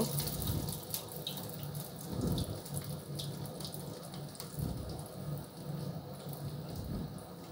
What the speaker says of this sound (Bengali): এখন আমরা এক এক করে এইভাবে করে বড়া বানিয়ে সেটাকে তেলের মধ্যে ছেড়ে দিব